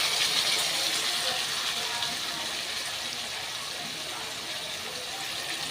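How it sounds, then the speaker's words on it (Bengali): Water rushes from a tap while a spice bowl is rinsed, a steady splashing gush that stays strong at first and eases slightly, with no speech. "মশলার বাটিটা ধুয়ে একটু জল দিয়ে দিলাম"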